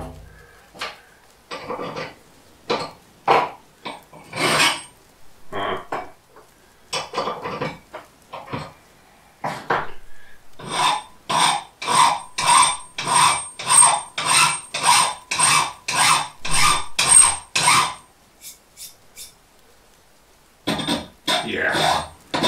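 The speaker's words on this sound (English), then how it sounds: "this one needs to be in the vise to get properly filed" Metal piece clamped in a vise and filed by hand, a rapid series of close, rasping strokes in steady rhythm, with brief pauses and some talking.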